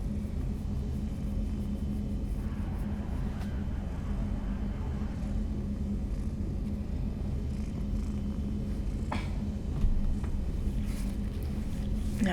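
A cat purrs right against the microphone in a steady, low rumbling drone that runs throughout, close and fairly soft.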